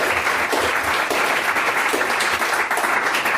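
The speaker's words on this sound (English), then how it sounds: "Can we give them one final round of applause?" An audience at the close of a live podcast event gives a final round of applause, loud and sustained, a thick continuous roar of clapping with no break and no voices.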